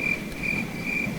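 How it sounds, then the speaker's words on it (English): Crickets chirp in a Ghost Recon Unreal Engine 4 demo game scene, a steady high-pitched trill pulsing in about three bursts over a low wind rumble, ambient and continuous with no voices. "you can hear the wind sounds and the crickets in the background"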